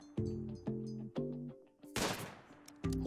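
A single sharp gunshot from a sniper weapon in the Rimworld video game cracks out with a decaying tail, set between soft tonal game chimes and music.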